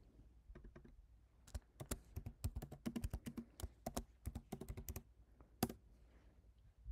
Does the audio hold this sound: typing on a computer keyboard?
yes